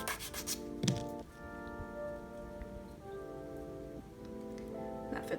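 Press-on nails having their sides smoothed with a file, a soft scratchy rubbing in short passes that stops and restarts, quiet and close under faint background music.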